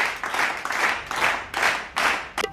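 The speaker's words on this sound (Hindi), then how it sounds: "ताली बजाते हैं ये।" Several bursts of group clapping in a comic Hindi classroom sketch, about four short rounds of applause that stop and restart, loud and close, with a brief louder patter near the end.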